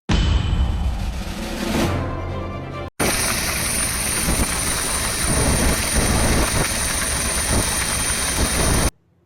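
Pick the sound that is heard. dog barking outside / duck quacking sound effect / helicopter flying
helicopter flying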